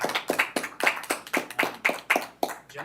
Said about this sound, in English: if we could get a round of applause for Lehua, and then